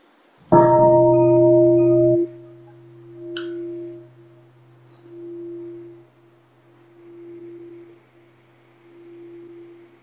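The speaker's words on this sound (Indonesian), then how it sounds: "barusan adalah suara genta sepenuhnya ya" A meditation bell (genta) is struck once at full strength, giving a loud ringing strike with a steady pitched tone. The tone fades and then swells again several times over about ten seconds, with no one speaking.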